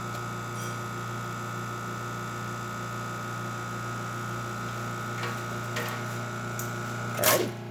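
Expobar Dual Boiler espresso machine pump pulling a shot after a full tune-up, a steady electric buzz and hum with a faint pulsing rattle, ending in a short hiss and clatter near the end.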